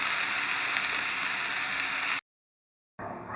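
Coriander sautés in hot oil in a pan, giving a steady, fairly loud hiss of frying that cuts out abruptly for under a second, then resumes, with no voices.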